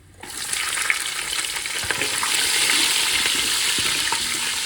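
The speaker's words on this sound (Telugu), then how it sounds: "ఇప్పుడు కొద్దిగా కట్ చేసిన ఆనియన్ అలాగే పచ్చిమిర్చి కట్ చేసుకునేటివి వేసుకోవాలి." Chopped onion and green chilli hit hot oil in a pot for Andhra-style dum biryani, a loud, steady sizzle that starts abruptly and builds, with a few stirring scrapes and no talking.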